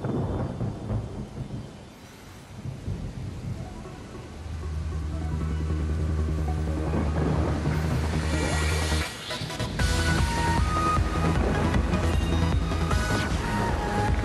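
Thunder rumbling with steady rain in a Nintendo Switch video game, a low sustained roar building, then a loud crack near nine seconds followed by continued heavy rain and rumble.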